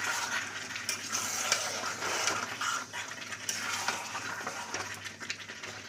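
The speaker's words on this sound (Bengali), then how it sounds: "নেড়ে দিই।" Chicken curry is stirred in a cooking pot, a spoon scraping and clinking against the pot over a soft background sizzle, with irregular strokes repeating throughout.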